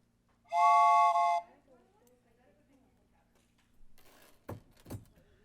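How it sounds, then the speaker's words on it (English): A bright, steady three-chime toy whistle blast lasting about a second, its short, medium and long chimes sounding together, followed by quiet handling noises and a couple of knocks. "This is a 3-chime whistle because it has 3 different, a short chime, a medium chime, and a long chime"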